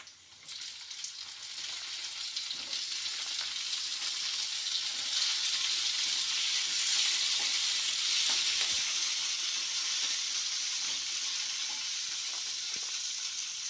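Tomato drops into browned onion in a hot pan, setting off a loud, steady sizzle and frying hiss that swells within the first few seconds and holds, with a few faint stirring knocks and no voices.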